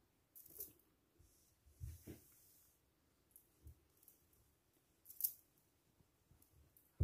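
Scissors snip through a strip of sewing bias binding, cutting it in two for a fabric tart carrier bag: a few quiet, separate crisp cuts spread across a mostly hushed room.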